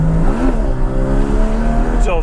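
A Porsche Cayman GT4 accelerates hard with a clutch kick, its engine note rising steadily and loudly up close from inside the car, with a sharp upward sweep near the end as revs climb again; a person talks over it.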